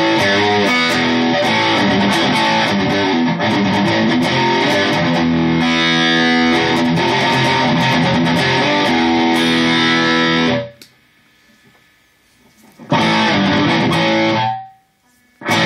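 Heavily distorted electric guitar through a modded Boss DS-1 distortion pedal plays chords and riffs continuously, then cuts out abruptly into near silence before a brief final burst.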